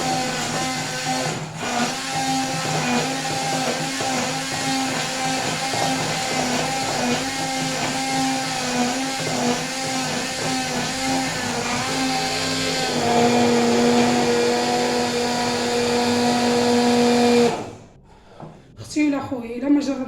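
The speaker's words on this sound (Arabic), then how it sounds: "غادي نديرو الميكسور شويه" An electric mixer blends a homemade remedy for toothache, bad breath and bleeding gums: a steady whirring motor hum that shifts pitch partway through, then cuts off near the end.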